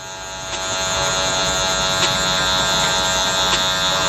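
Electric hair clippers fitted with a number 1 guard cutting a client's hair in an upward flicking fade motion: a steady, close, high buzzing hum with faint repeated pulses as the blades pass through hair.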